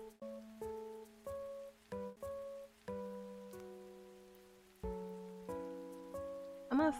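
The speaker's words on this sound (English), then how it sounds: "I want to listen to Animal Crossing music with rain." Animal Crossing music plays gentle, separate melodic notes over a soft bed of rain patter, all quiet and steady, with a brighter chime flourish at the end.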